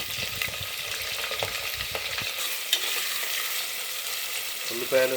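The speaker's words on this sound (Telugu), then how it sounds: "గోధుమ రంగు వచ్చేదాకా కూడా వేయించుకోవాలి." Green chillies and onions fry in a pan for a mutton curry, giving a steady broadband sizzle throughout with soft stirring scrapes early on and a faint clink near the end, no speech.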